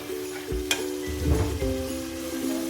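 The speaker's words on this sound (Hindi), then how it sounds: "प्याज और टमाटर का पेस्ट डाल के इसको हम अच्छा सा भूनेंगे।" Onion and tomato paste frying hard over high heat, a continuous close sizzle with spoon scrapes and clinks against the pot, loud and steady without speech.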